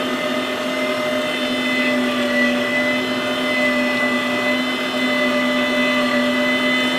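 A Harbor Freight electric meat grinder running steadily while grinding wild hog meat, a constant motor whine with strong tonal hum, close and even for the whole stretch, no voices.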